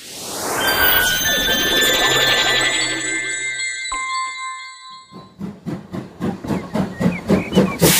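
A steam train lets off a loud, continuous hiss with a whistle-like tone for several seconds, then the hiss cuts out and gives way to a rhythmic chuffing as the locomotive pulls away.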